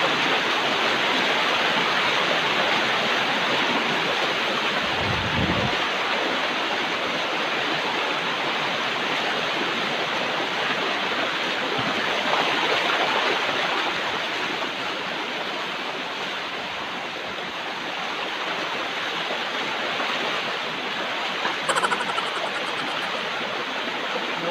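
Sinungkulan Falls in Lamac, Pinamungajan, Cebu pours as a loud, dense, unbroken roar of falling water, steady throughout with only a brief low thump partway through.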